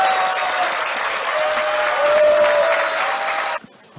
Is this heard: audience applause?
yes